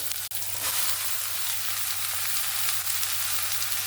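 Ash gourd pieces hit a pan of onion, tomato and green chili already fried until red, setting off a steady, even sizzle with one sharp clack near the start.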